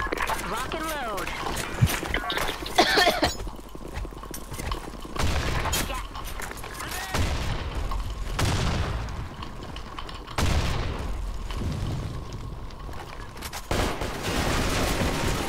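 Video game gunfire crackles in repeated loud bursts and rapid volleys, with people talking over it throughout.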